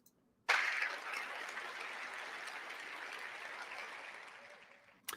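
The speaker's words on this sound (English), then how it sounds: "Did you hear the applause, guys?" Applause from a TEDx event audience bursts in abruptly and holds as a dense, steady wash of clapping for about four and a half seconds before tapering off, with a brief fresh spatter of claps at the very end.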